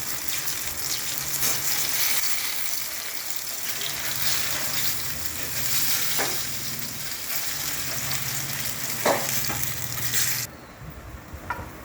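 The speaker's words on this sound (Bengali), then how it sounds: "এখনও ভাজা হচ্ছে, অনেকটা আরেকটু ভাজা হবে।" Food frying in hot oil in a home kitchen, a steady close crackling sizzle with a few sharper pops, continuing unbroken until it drops quieter near the end.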